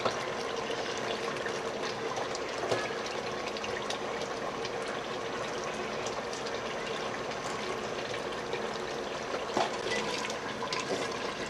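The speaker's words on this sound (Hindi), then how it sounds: "पानी।" Water pours steadily into a pot of desi chicken curry with tomato and onion, a continuous gushing, splashing flow heard up close and alone.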